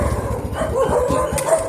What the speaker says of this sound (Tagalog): Dumagdag pa yung mga aso, napakaingay.